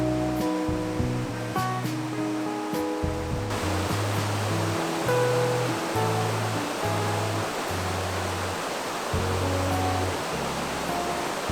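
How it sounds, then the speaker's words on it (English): River flowing through the Enchanted Valley in Olympic National Park in autumn, a steady broadband rush of water close by, continuous throughout under a tonal musical layer. "I'm walking along the river."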